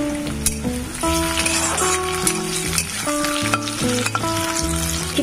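Onion, dried and green chillies, cardamom, cinnamon and bay leaf sizzle steadily in hot oil for khichuri, a close, continuous frying crackle with soft stirring, while tonal music plays over it.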